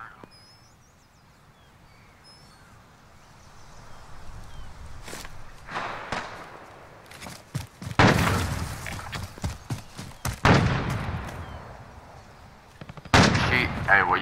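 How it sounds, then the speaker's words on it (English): Gunfire in Call of Duty: Modern Warfare, sharp single shots and short bursts at varying distances, some near and loud, others fainter, spread over quieter footsteps and movement. "Someone else is shooting."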